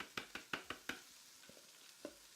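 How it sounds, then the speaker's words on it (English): Vegetables for a paleo stir-fry sauté in a hot pan, a run of five sharp, close stirring scrapes and clacks followed by quieter scattered taps over a faint sizzle. "saute up the veggies."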